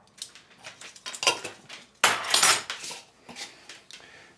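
Gyoza filling seasoned with ground ginger being mixed in a bowl, heard as a run of close clinks and scrapes of a utensil against the dish in irregular bursts, with one louder stretch midway.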